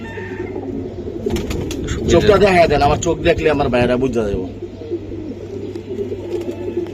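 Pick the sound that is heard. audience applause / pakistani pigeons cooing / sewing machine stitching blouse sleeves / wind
pakistani pigeons cooing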